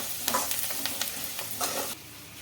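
Onions frying with a pinch of salt in a pan, a steady close sizzle broken by several soft scraping stirs, stopping abruptly near the end.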